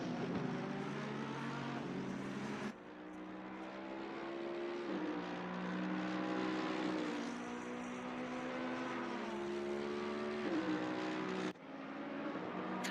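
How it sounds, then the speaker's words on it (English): A Mercedes race car on cold tires in a racing video game, its engine a steady, loud droning whine that rises and falls with gear changes, with two sharp dips as it shifts. "You hear the wiggling on the cold tires for that Mercedes."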